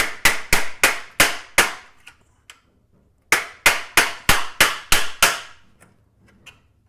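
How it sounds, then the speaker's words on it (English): A screwdriver struck with a hammer to pop spot welds off a small metal plate in a garage: two loud bursts of sharp, evenly spaced metallic bangs, about six blows each, separated by a short pause with a few faint taps. "I'm going to hammer and pop all those little spot welds to take this little plate off."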